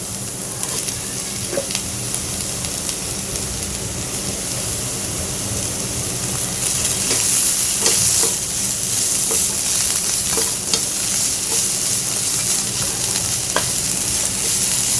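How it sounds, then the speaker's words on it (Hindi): Chopped capsicum fries in a pan for chicken chow mein, giving a loud, continuous sizzle with faint stirring scrapes and no talking. "तो इन्हें फ्राई करेंगे। साथ ही मेरे पास शिमला मिर्च है, ये ऐड कर दूंगी।"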